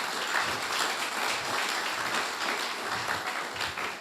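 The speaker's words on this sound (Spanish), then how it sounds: "A su nombre, dale un aplauso al que vive en esta mañana." A church congregation breaks into sustained applause, dense and even clapping throughout, fairly loud with a murmur of voices beneath.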